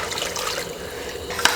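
Water is poured into a pot holding a kilo of rice and mushrooms for cooking, giving a soft, steady splashing pour that ends with a small clink.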